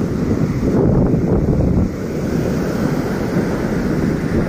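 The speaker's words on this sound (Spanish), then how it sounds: "Está fuerte el oleaje" Strong ocean surf with heavy swell and wind at Barra Vieja beach, a dense, loud roar of breaking waves with steady wind buffeting the microphone throughout, easing slightly midway.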